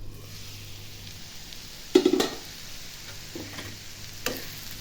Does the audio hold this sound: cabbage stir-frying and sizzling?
yes